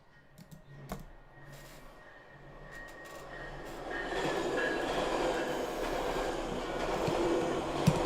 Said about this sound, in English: What is that noise? It's the trains that I live next to.